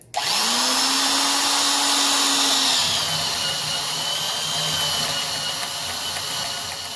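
A Milwaukee 1/2-inch high-torque D-handle drill spins up with a rising whine, then settles into a loud, continuous grinding drone as a 2 1/8-inch self-feed bit bores steadily, close and unbroken.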